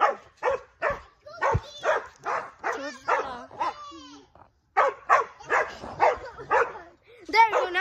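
A dog barks and yips in several short bursts close by, mixed with people talking nearby.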